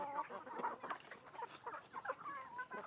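Hens cluck steadily in a flock with a breeding rooster of the Sonthi line on a Thai farm raising Ngon-type fighting chickens, the busy clucking close and continuous with no talk.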